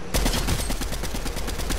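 Fortnite gunfire in a quick run of sharp shots, evenly spaced and loud, firing nonstop for under two seconds with no talking.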